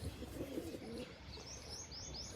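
Pigeons cooing softly in a low, repeated burble, with faint higher chirps later and a brief flutter at the end, against a quiet background.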